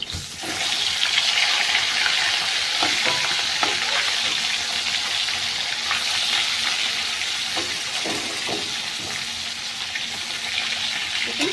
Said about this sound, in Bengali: এরকমভাবে লাল লাল করে মাছগুলো ভেজে নিতে হবে